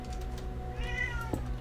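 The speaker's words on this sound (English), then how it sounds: "Yeah, I hear you, cat." A house cat meows once near the microphone, a rising-falling cry over a steady low hum and faint background clatter, with no talking.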